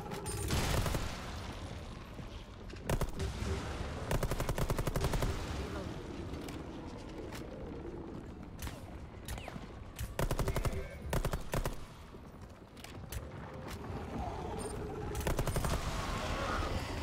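Gunfire from shooting an enemy in a video game, dense repeated bursts of shots across the whole stretch, loud and busy, with faint voices mixed underneath.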